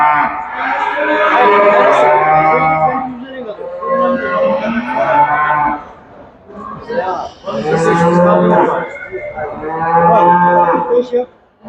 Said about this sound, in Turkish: burada buzağlı bir tane inek var